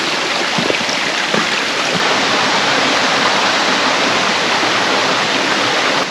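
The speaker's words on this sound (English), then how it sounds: "There's something about the sound of running water." Steady rush of running water inside a cave in a valley below an escarpment, a dense continuous broadband wash with no breaks, close and loud throughout.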